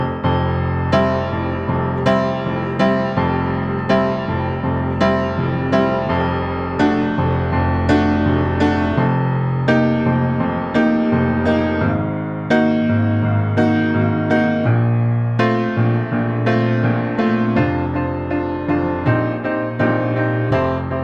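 An instrumental plays as a lush studio recording, with steady plucked and struck chords, sustained strings and a bass line moving through rich harmonies at an even, moderate pace.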